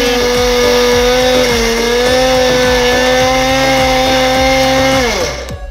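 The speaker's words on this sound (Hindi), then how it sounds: "ये दोनों चीज़ें हम लोग डाल के जो हैं वो देखिए ग्राइंड कर रहे हैं।" An electric grinder runs on ingredients for a winter sweet, a loud, steady high-pitched motor whine with a rhythmic ticking rattle, dropping in pitch and winding down at the end.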